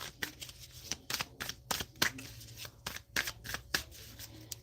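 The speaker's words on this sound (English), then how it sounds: "I'm just shuffling away when I'm not on camera" A deck of playing cards is shuffled again and again up close, each riffle giving a crisp rapid flutter in an even rhythm of about two per second over a quiet room.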